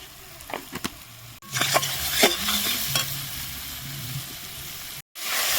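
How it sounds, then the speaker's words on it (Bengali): Spice paste for a chicken curry is stirred and fried in a pan, bright crackling sizzle with repeated spoon scrapes and knocks, close and loud, briefly cut out near the end. "মশলাটা এইভাবে ভালো করে ভেজে নিতে হয়।"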